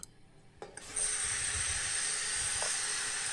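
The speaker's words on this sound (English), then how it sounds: "So I'm going to stir fry this with 2 tablespoons of oil." Prawn shells are stir fried in two tablespoons of oil for a broth, starting with a few clatters before a sharp, steady sizzling hiss takes over and holds close and loud, with no talk.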